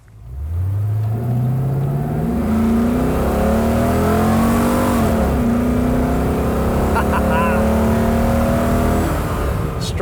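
A Holden VT Commodore V8 drives and revs hard, its engine note climbing steadily through the gears with a loud, close, continuous rumble and a brief gear change midway.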